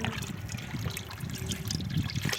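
Rainwater trickling steadily through a tube in a village garden in Russia, a soft continuous dribble close to the microphone with no voices over it.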